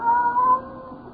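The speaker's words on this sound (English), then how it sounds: "the silence was broken by the faint crying of one cat" A single cat cries in one drawn-out, wavering tonal meow that fades toward the end, heard alone and fairly faint.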